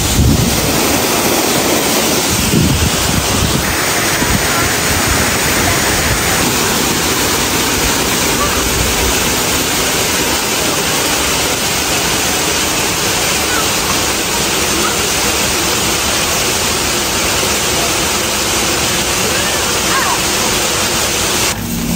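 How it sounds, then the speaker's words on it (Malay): Roaring rush of a waterfall beside a river, loud and constant throughout, with some wind buffeting the microphone. "ini rupa dia waterfall dia"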